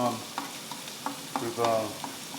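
Cured diced gammon sizzles in a frying pan while it is stirred and spread, with steady close frying hiss under repeated scraping strokes of the utensil and no voices.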